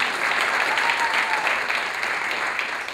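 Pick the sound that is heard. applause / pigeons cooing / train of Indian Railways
applause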